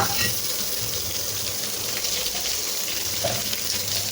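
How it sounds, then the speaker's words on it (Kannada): Onion drops into a hot tempering of curry leaves, green chilli and mustard seeds and crackles in a continuous, fairly close sizzle over faint background noise. "ಕರಿಬೇವು ಮೆಣಸಿನ್ಕಾಯಿ ಸಾಸಿವೆ ಹಾಕಿದ್ದೀನಿ ಒಗ್ಗರಣೆಗೆ. ಮತ್ತು ಈರುಳ್ಳಿ ಹಾಕೋಣ"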